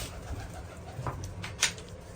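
A pigeon coos softly and low against faint background noise, with a sharper brief sound near the end.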